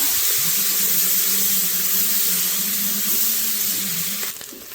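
Chopped onions frying in a pan while cooking soya chunks pulao, a steady close sizzle with low bubbling running throughout, briefly disturbed near the end.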